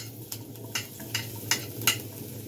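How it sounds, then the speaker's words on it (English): Garlic sizzles in a pan of oil for Nigerian fried rice, a quiet steady fry broken by several sharp stirring scrapes and clinks of a utensil against the pan. "So we are going to put our garlic in first."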